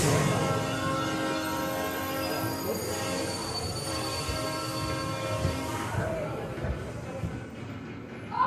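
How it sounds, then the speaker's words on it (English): Train passing near a theme park queue area, a steady broad rumble with tonal wheel and rail hum carrying through most of the clip, some voices faintly mixed in. "Ooh, train."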